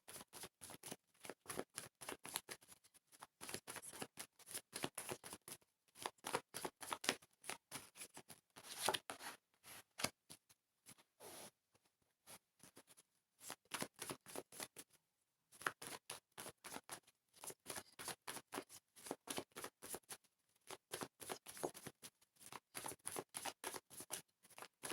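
Tarot cards being shuffled by hand during a reading: rapid, dense papery riffling and slapping in steady bursts, close and crisp, with brief pauses between rounds and no talk.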